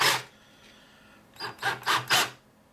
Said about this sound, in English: I'm going to use a power tool.